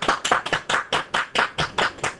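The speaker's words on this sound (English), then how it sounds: "Stop clapping, I'm trying to talk." Steady rhythmic hand clapping from a small group of people, about ten sharp claps in a little over two seconds, close and fairly loud with no talking over it.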